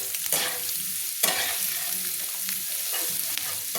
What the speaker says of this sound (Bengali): পেঁয়াজ আর লঙ্কাগুলোকে লাল লাল করে ভেজে নিচ্ছি।